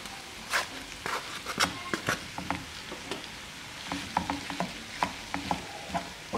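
Kofta and vegetables fry quietly in a pan while a utensil stirs them, giving soft sizzling beneath a string of irregular scrapes and taps.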